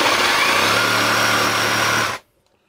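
Parkside Performance PPSTDA 20-Li A1 cordless jigsaw cutting 30 mm raw fir at speed setting 5, a loud, steady buzzing cut lasting about two seconds before stopping abruptly into silence.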